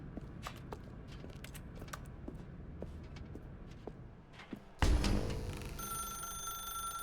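Telephone in The Stanley Parable video game starts ringing loudly and close after quiet footsteps and room ambience, a sustained bright electronic bell tone.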